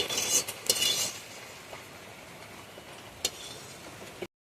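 Fried cashews and raisins scooped out of a pan of ghee with a metal spoon, a few scraping clinks early and one later, faint sizzle underneath.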